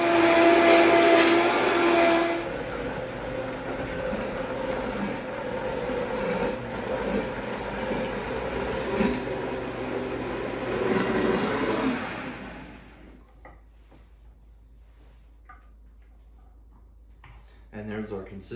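A variable speed blender whirs steadily as it purees fermented hot sauce peppers, the motor noise loud and continuous for about twelve seconds before cutting out, leaving quiet handling sounds.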